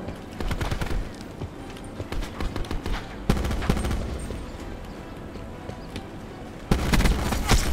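Rapid bursts of gunfire crackle in close succession in Call of Duty: Black Ops 4, with louder volleys kicking in partway through and again near the end, no voices.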